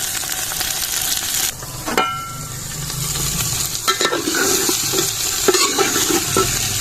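Onions and capsicum sizzle steadily in a hot pan for village-style aloo gobi, loud and close, with stirring scrapes and clatter breaking through the frying hiss; no voices.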